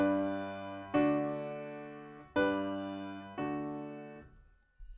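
Piano chords struck one after another, four in sequence with a slight pause between, each ringing and decaying, clear and fairly quiet.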